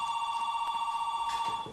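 Telephone ringing indoors in an English-lesson dialogue scene: a steady electronic ring tone that continues throughout at moderate level, with no voices over it.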